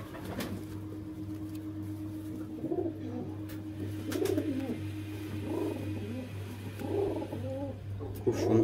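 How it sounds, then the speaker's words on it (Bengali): A female pigeon at a home loft gives soft, low rolling coos in repeated phrases every second or so, close and steady over a constant low hum. "খুব সুন্দর একটা পায়রা"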